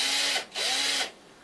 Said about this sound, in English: went ahead and took a drill, appropriate drill bit size